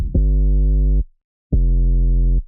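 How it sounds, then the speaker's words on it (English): Synthesized sub bass from a drum and bass drop plays two deep, clean sustained notes, each about a second long, separated by a short silence. "And for the B part, I just added sub bass."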